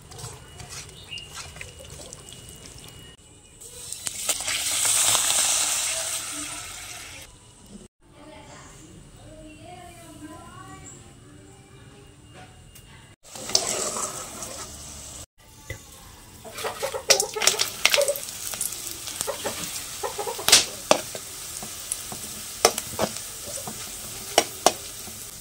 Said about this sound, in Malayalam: ഇപ്പം ഇത്ര ഫ്രൈ ചെയ്യാനും കൂടി വെച്ചിട്ടുണ്ട്